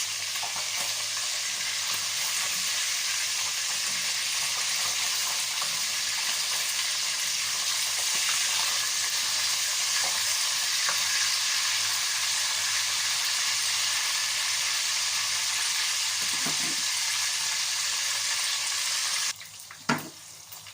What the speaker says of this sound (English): We're going to like fry it, fish or whatever.